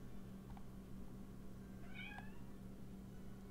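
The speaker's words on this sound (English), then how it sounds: "There's the cat crying. Wants to come in the room." A house cat meows from just outside a room, a short faint cry around the middle, with a few softer chirps, over a steady low hum and no talking.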